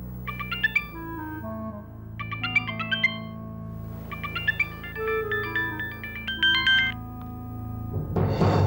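A telephone ringtone plays a repeating bright electronic melody in several loud, close phrases with short pauses, with no talk over it, ending as another sound cuts in.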